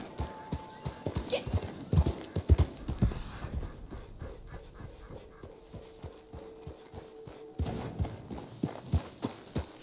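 Rhythmic hoof clops of a horse in the video game Red Dead Online, loud and uneven, pausing midway then resuming, with a brief tonal hum and a voice speaking faintly.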